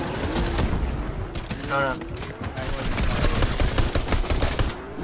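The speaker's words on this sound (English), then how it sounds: "I died to a pistol" Pistol gunfire in the video game Fortnite: a rapid clatter of shots and overlapping bursts runs through the whole stretch, dense and fairly loud, with a player's voice speaking briefly over it.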